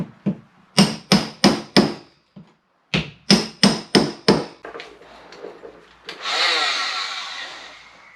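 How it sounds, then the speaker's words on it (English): A hammer and chisel chip into a wall to find a buried cable, striking in quick rhythmic runs of about five sharp blows each, close and loud, followed by a burst of gritty scraping or rushing noise. "so I'm just going to carefully chip out to try and find it."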